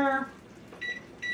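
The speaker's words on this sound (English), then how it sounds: "we're gonna turn on our timer" A kitchen timer gives two short electronic beeps as it is set for fudge boiling on the stove, after a brief tone at the start and soft kitchen noise.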